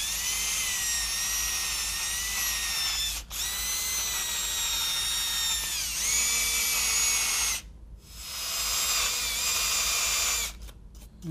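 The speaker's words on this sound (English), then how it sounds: "So I'm going to use a brass wheel and just really gently come in here and clean this." Brass wire wheel spun by a power drill, gently cleaning a soft aluminum cylinder head from a MINI Cooper S engine; a steady, loud whirring grind with shifting pitch that stops and restarts twice, no talking.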